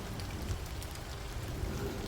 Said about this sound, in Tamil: ஆமாம்மா, ரொம்ப மழையாக தான் இருக்குது.